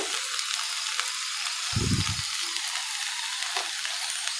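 Okra stir-fries in a pan, a steady close sizzle and crackle broken by a brief soft stirring scrape near the middle.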